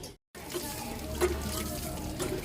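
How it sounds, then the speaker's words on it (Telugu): Water spurts under pressure from holes in a container during a school science activity, making a steady, moderately loud rushing hiss that cuts out briefly at the start. "ప్రెషర్ వల్ల అన్ని వైపులకి పైనుంచి వాటర్ పోస్తుంది"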